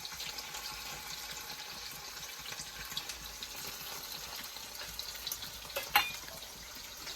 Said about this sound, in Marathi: अशा प्रकारे पहिले तळून घेणार पनीर सर्व चांगलं